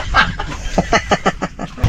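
Rapid run of short clucking bursts from a chicken, fairly close, with a brief louder noise at the end.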